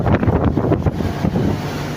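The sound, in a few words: strong wind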